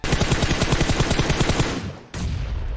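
Rapid automatic gunfire spray in the battle royale game PUBG Mobile, a loud sustained burst of closely spaced shots that tapers off, then a brief pause and a renewed blast of firing.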